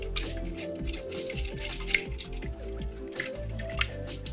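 Sweetened calamansi juice is poured into a kombucha mix, producing close dripping, squishy liquid sounds that run on steadily without any talk.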